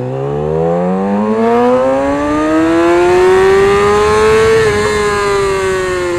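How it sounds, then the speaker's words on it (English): A gas-powered motorcycle rides in traffic, its engine note rising steadily as it revs up through a gear, then dipping briefly and climbing again, loud and close against a wash of road and wind noise. "I'm going to go play in traffic on my gas-powered motorcycle."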